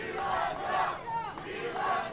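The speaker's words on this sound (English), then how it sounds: "there's Governor and his wife walking through a crowd being shouted down with "We love Trump."" A crowd at a political event shouts and chants at a governor walking through with his wife, the massed voices rising and falling in loud waves.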